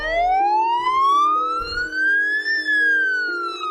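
Ambulance siren wails as the vehicle arrives at a hospital, a loud close rising and falling electronic tone sweeping steadily, with a lower two-tone pattern beneath and no voices.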